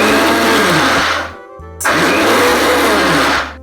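A mixer grinder grinds moong and matki dal into a coarse paste, a loud steady motor whir with a brief slowdown and pause in the middle before it surges back up to full speed.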